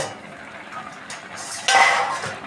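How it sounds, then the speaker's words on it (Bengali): A pot lid is lifted off a pot of pumpkin greens with prawns, giving a sudden brighter metallic clatter and hiss near the end after quiet kitchen background. "এখন আমি ঢাকনাটা তুলে নেব"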